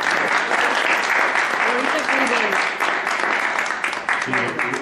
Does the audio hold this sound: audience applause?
yes